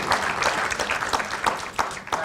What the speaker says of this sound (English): A big round of applause to my panelists.